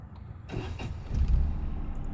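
A car engine started with the key during a learner driving lesson, with an abrupt cranking onset followed by a steady low idle rumble close inside the cabin, no speech over it.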